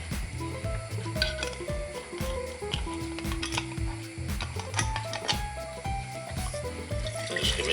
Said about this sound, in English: just put some of your beef stock